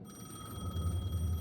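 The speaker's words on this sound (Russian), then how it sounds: "payphone was ringing" A payphone in the video game Alan Wake 2 rings with a steady electronic telephone bell tone, sustained and fairly clear over a low droning game ambience, heard alone without talk.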